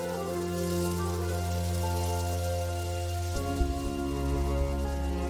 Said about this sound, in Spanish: Recogen parte de la lluvia que todos los días empapa la selva sudamericana